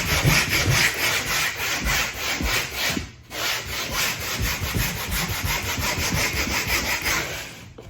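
A pole sander's screen rubs back and forth across an interior wall in steady, continuous rasping strokes, loud and close, with a brief pause near the middle and no talking.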